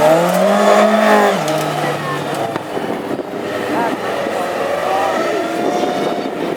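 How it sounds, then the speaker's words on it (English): A classic hot rod race car spins donuts after the Irish Grand Prix final in Tipperary, its engine revving and wailing through shifting pitches with tire roar beneath, while a commentator talks over the loud, close engine. "Trevor Harris putting on the donuts, celebrating in style"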